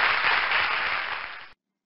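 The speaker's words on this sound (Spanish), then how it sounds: "Aplauso para la maravillosa Mappy!" Circus audience applauds the performer Mappy, a bright burst of sharp clapping that holds steady and then cuts off abruptly into silence near the end.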